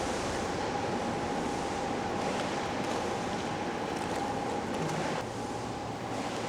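Steady rushing water from 1.5-metre-scale waves made by a wave generator in a test tank fills the clip, a continuous broad wash with a faint tonal hum underneath.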